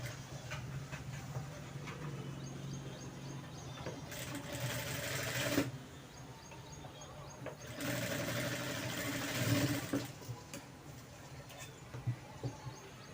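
A sewing machine stitches a cone-shaped seam on baby frock fabric, running in steady bursts with brief pauses between runs, close and moderately loud, with no talking.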